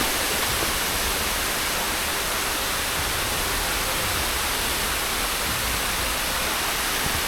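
Kemburli waterfall pours steadily as a dense, unbroken roar of rushing water, loud and close with no voices over it.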